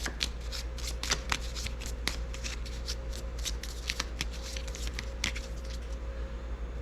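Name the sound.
shuffling a deck of cards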